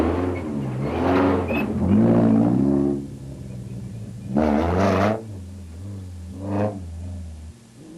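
Castrol Toyota Hilux 2.7i rally truck revving and accelerating in bursts, its engine note rising and falling through gears in three loud passes with quieter gaps between.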